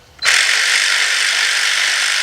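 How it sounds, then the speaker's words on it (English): A ratchet on a 3/8 drive extension with a 10mm shallow socket turns a bolt during Ford timing belt and oil pump work, giving a bright, steady, close-up ratcheting rasp that starts suddenly and runs without pause. "Get my ratchet."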